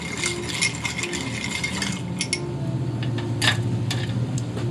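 An Old Fashioned made with Woodford bourbon is stirred in a mixing glass, giving light clinks and rattles of ice against glass. The sounds come close and fairly faint over low background noise.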